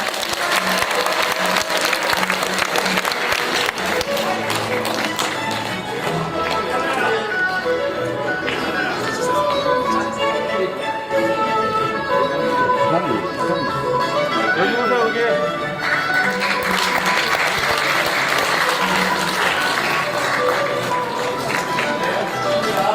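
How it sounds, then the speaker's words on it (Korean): Sustained audience applause for award recipients at a Korean civic ceremony, a dense, loud clapping wash lasting over twenty seconds, with voices murmuring underneath. "이 5분께 큰 박수 부탁드립니다."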